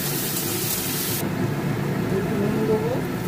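Chopped onion and green chili frying in hot oil give a steady, close sizzling hiss that holds throughout, with no talking.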